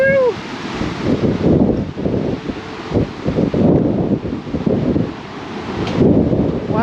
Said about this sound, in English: That's crazy wind.